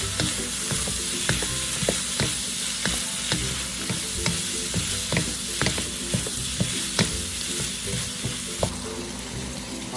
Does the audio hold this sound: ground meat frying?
yes